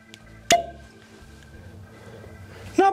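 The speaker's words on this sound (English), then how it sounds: "Pause for cork pop." A real cork pops out of an Old Forester bourbon bottle, a single sharp close pop followed by faint handling sounds, then a second brighter knock near the end.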